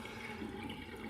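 Water runs from a tap for rinsing the face after a shave, a soft steady splashing stream, faint and brief.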